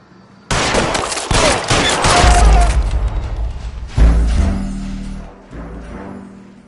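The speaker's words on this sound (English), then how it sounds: "All units, shots fired, ops needs help." Gunfire erupts in the L.A. Noire video game as a loud, dense volley of shots with booming impacts, then a second heavy burst follows before the noise trails off.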